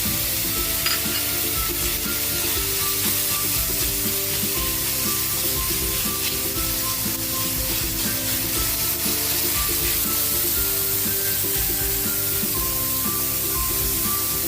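Ground pork frying in a pan, a loud continuous sizzle with steady crackle and occasional stirring scrapes, all under soft background music, no talking.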